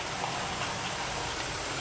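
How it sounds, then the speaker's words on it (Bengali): Potatoes frying in a pan, a soft continuous hiss like light rain, faint and even with no distinct stirring strokes or voices. "আর এখানে আলু ভাজা হচ্ছে"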